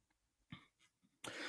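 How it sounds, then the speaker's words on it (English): A short throat clearing, a couple of quick rough bursts close to the microphone, followed by a louder noisy burst at the end. "Why did I just clear my throat into the fucking microphone like an idiot?"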